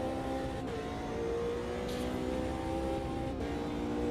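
An Audi R8 V10 in the AMS2 sim racing game holds a steady, loud engine drone with sustained harmonic tones that shift slightly through a couple of gear or throttle changes, alone without any talk.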